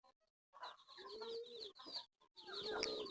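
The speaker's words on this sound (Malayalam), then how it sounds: "തനി നാടനാണ്, അടയിരിക്കുന്ന ടൈപ്പ് കോഴി കുഞ്ഞുങ്ങൾ" Native country chicken chicks about two to three weeks old, from a brooding breed, chirp and peep in a nearby cluster, a near-continuous high twittering broken by one short pause.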